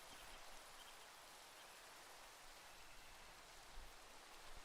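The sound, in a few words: rain in Minecraft video game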